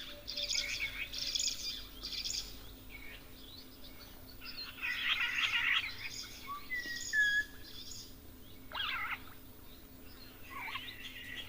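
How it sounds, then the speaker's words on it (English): Starlings calling at a waterhole, with bursts of bright chirps and whistled calls repeating in clusters over faint outdoor background, fairly close and moderately loud, no talking. "Oh, we've got some starlings."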